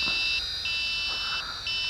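A steady high-pitched electronic beep tone from a WLToys Q222G 5.8 GHz FPV toy drone in headless mode keeps sounding, with brief shifts in pitch at intervals.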